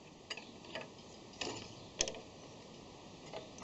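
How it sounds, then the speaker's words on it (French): A wrench loosens a lock nut on a milling machine, sparse metallic ticks and clicks against a faint steady hum, heard close with no talking. "Voilà, et je desserre."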